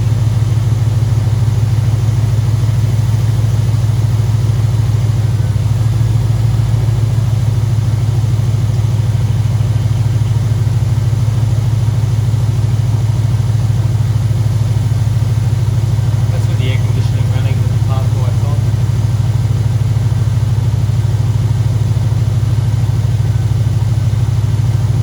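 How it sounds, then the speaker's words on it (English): A car engine idles steadily and loudly for the whole stretch with the air conditioning and park lights running, a constant low hum with a few faint clicks partway through. "I'll start the car up, put the multimeter on there and see what kind of voltage at idle we're sitting at."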